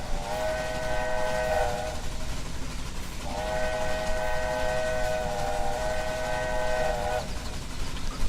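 Steam locomotive whistle in the railway game Railway Empire, two long sustained harmonic blasts, the second longer, sounding loud and clear over a steady rumbling train background.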